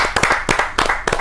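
Brief burst of enthusiastic audience clapping at a Hindi kavi sammelan poetry gathering, many hands beating fast and loud close by, with no speech over it.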